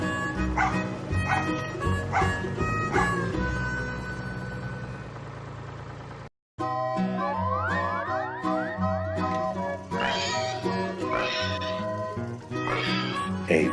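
A dog barks repeatedly in short yips and woofs over a busy, music-like background in a children's farm-animal setting, with a brief silent gap midway.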